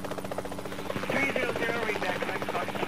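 Simulated helicopter rotor in the video game Helicopter Simulator 2014, a steady buzzing drone with a throbbing beat that swells slightly louder partway through, heard alone without voices.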